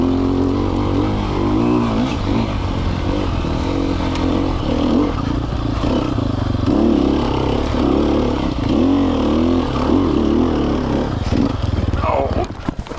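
Four-stroke Sherco trials motorcycle engine revving up and down through the whole stretch, near and loud, with someone talking over it throughout.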